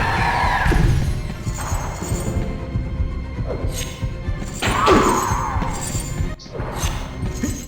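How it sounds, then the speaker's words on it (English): A boss in the game MediEvil unleashes a rain of stained glass: repeated crashing, shattering impacts and thuds layered over a throbbing low hum, loud and busy throughout with no clear speech. "he'll sort of fire out a rain of stained glass which you want to run away from"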